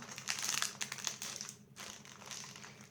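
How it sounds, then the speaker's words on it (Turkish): Biscuit packet being opened, with steady crinkling and crumpling of plastic wrapper close by, busiest in the first second and a half, then a short pause and softer rustling. "Bisküvilerimi de açıyorum"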